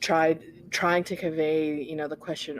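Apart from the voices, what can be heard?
No distinct noise like a dog, phone or traffic.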